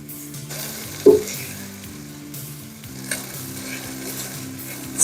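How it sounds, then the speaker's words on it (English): Sofrito vegetables, carrots among them, sauté in a pan with a steady close sizzle, broken by a couple of soft stirring knocks and scrapes. "I'm going to saute the vegetables until I see them getting soft"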